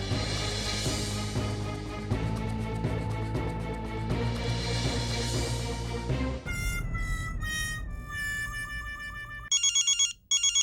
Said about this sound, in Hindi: इसका मेहता साहब का फोन है